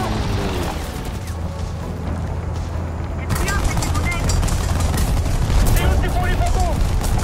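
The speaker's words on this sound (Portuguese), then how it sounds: "Tanto de tiro que a gente tá aguentando." Gunfire and impacts pound a Namer 30 infantry fighting vehicle in the War Thunder video game, a dense, loud clatter of shots and booms that grows busier after a few seconds, with speech mixed in.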